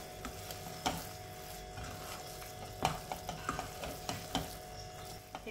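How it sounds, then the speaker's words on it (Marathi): Milkmaid modak filling being stirred in a pan, with a spoon scraping and tapping the pan in uneven strokes over a faint steady sizzle, close and quiet. "यालाही छान मिक्स करून घेऊया आपण"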